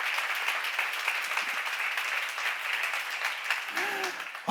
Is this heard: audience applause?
yes